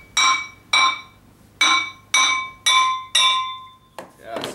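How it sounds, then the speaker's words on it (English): A rotary engine flywheel is struck with a hammer, six sharp metallic ringing taps at a steady pace, each with a bright lingering ring, followed by a softer knock as it comes loose. "So you just gotta give her a couple little good taps there."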